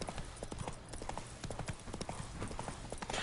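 Horse hooves clip-clopping in The Witcher 3 video game, a steady rapid trotting rhythm of many distinct hoof strikes, fairly quiet and close, with no talk over it.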